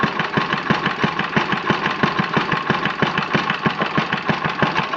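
A 1950 Briggs & Stratton 6S small engine idles very low, its slow, even putt-putt firing pulses close and steady throughout.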